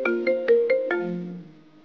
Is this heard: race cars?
no